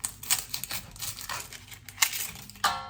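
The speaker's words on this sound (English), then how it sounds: "Peel the onion." An onion being peeled by hand in a home kitchen, with dry papery skin crackling and tearing in irregular bursts, close and fairly quiet, with no talk.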